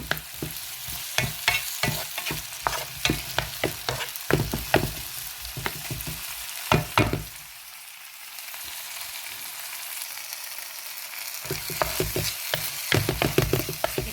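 Tomatoes sauté with salt in a pan while a spoon repeatedly scrapes and clacks through the sizzle, the stirring pausing for a few seconds midway before resuming busily.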